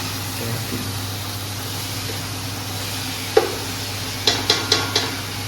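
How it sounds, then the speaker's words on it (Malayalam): Masala stirred into chicken frying for biryani, a low steady sizzle with quiet stirring, then a sharp clink and a quick run of four metallic taps near the end. "മസാലയൊക്കെ അങ്ങോട്ട് ഇട്ട് ഇളക്കി എടുക്ക്"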